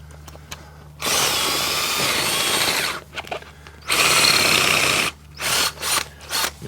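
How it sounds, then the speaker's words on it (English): Power drill boring a hole for a peg in two sustained bursts, with a few shorter trigger pulses toward the end and quiet gaps between them. "what we can do now is take our drill"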